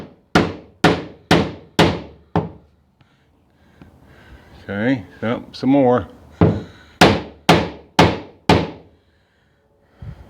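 Nails are hammered into a prehung door frame in a rough opening: two runs of five or six sharp, ringing hammer blows in steady rhythm, broken by a short pause where someone speaks briefly.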